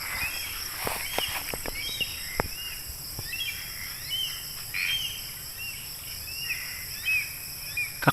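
A wild bird, companion of one named Bagwis, calls near a dam area with a series of short, faint chirps and whistles scattered over steady insect buzz.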